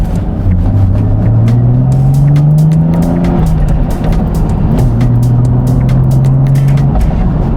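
A Toyota Supra JZA80 fitted with a UniClutch drives along, its engine note rising and falling steadily as it accelerates and shifts, loud and close throughout with no talking.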